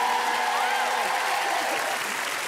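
Steady applause from a studio audience at a French television show, sustained throughout with some voices faintly mixed in.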